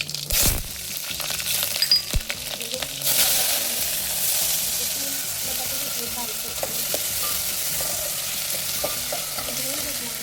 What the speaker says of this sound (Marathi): जिरे छान तडकले की हिरवी मिरची घालू